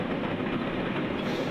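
A passenger train runs along the railway toward Jammu Tawi in Kashmir, with a steady, loud rumble and rattle of wheels on track that continues throughout.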